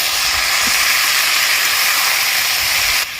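Washed red amaranth greens hit a hot pan of browned fried onions, giving a steady, loud sizzling hiss that holds evenly throughout with no voices.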